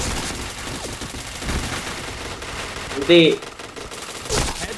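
Gunfire in a video game bursts out briefly at close range with a quick automatic rattle. Players chatter casually over it.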